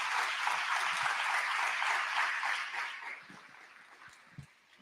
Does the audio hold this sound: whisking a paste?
no